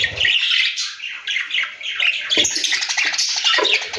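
Budgerigars in an aviary chatter and squawk continuously, a dense, busy flock of close chirps and harsh calls with no pause.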